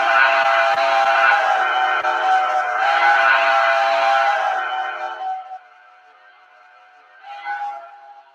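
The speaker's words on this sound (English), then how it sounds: "this whistle is off of a B&O Hudson" Steam whistle of a B&O Hudson locomotive, played as a model-train sound file: a long, loud multi-chime blast for about five seconds, then silence and a short second toot near the end.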